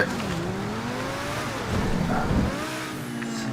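Car engine from GTA 5 Online, a steady droning and revving motor with shifting pitch, loud and continuous, without talk.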